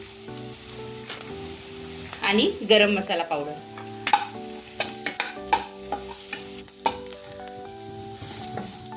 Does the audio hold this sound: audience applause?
no